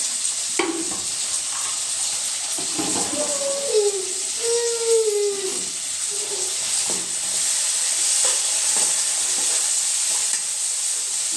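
Tomatoes sautéing in a pan for sambar, a steady sizzle and hiss with occasional stirring scrapes, fairly close and even in level, with no talking.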